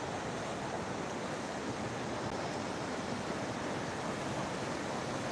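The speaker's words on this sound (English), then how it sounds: "And you can sit out here and listen to this water." Flowing river water at a riverfront park with a swinging bridge, a steady close, loud broadband rush that holds constant throughout, alone with no talking.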